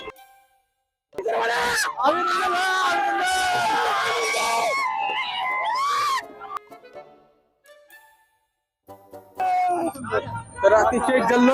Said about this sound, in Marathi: तर अतिशय जल्लोष साजरा होत आहे मित्रांनो